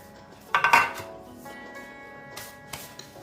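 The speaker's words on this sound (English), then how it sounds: "Give it a good mix and let it well combine, the butter and the Ritz cracker." Butter and powdered Ritz crackers worked together in a bowl for a broccoli casserole, with a few sharp clinks of a utensil against the dish up front, then quieter scraping and faint rustling.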